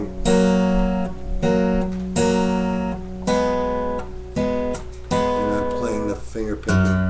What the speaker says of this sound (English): It's like a Travis picking type of thing.